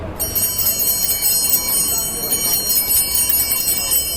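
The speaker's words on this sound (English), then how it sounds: "the bell size is different. Each bell is a little different, and it's strung differently to have the unique sound" Bright, shimmering Good Humor ice cream truck bells, each a different size, ring continuously with a sustained metallic jingle, loud and close, over a steady rumbling background.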